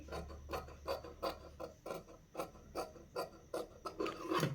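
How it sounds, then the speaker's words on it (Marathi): Fabric being cut with scissors while sewing neckline piping, a quiet series of crisp rhythmic snips and rasps close up, about a dozen short cuts in steady succession with no talk. "थोडासा कट करूया इथे"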